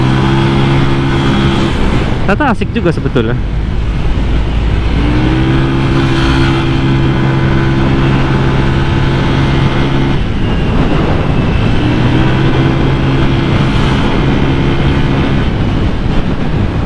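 A bored-up Honda Vario 180cc scooter with its standard exhaust drones loudly and continuously while riding, its engine pitch rising and falling through several throttle changes under heavy wind noise, with someone speaking briefly.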